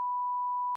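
A censor beep in a Call of Duty zombies perk reveal: one steady pure tone, loud and clean, holding for most of a second before cutting off abruptly.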